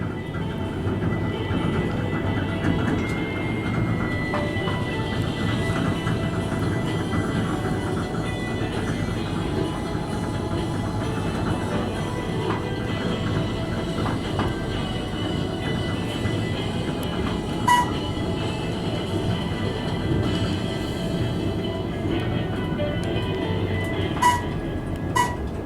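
A glass elevator car at the Marriott Marquis in Atlanta descends nonstop with a steady low rumble and mechanical hum, smooth and unbroken, with a couple of faint clicks near the end.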